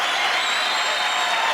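A game-show arena crowd cheers and applauds after a contestant's win on American Gladiators, a dense, steady roar of clapping and shouting held at an even level throughout, with no clear voice standing out.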